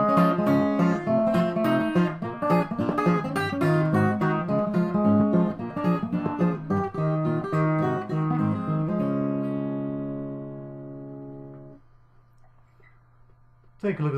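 Fingerpicked acoustic guitar playing a syncopated ragtime piece with thumb rolls, busy and bright with a steady bass under melody notes, ending on a sustained chord that rings out and fades.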